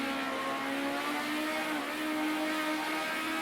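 A Group A touring car in a sim racing game at the Algarve circuit, its engine droning steadily at high revs with a faint turbo whine climbing near the end, continuous and close, with no voices.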